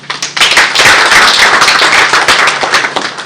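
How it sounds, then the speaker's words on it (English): A roomful of people clapping loudly at a launch event for Kenya's apparel and footwear industry, a dense, close burst of hand claps that carries on for several seconds without a voice. "He deserves a better clap."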